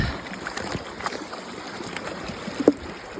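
A small brook in the Newfoundland woods babbles and trickles steadily, with light splashes and one brief gurgle near the end, heard close and alone.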